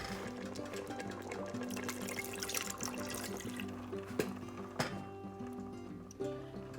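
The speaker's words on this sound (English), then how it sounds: "we're gonna add it to this soup." Cooking stock pours from a carton into a pot of taco soup, a continuous close liquid glugging and splashing with a few light knocks. There is no speech.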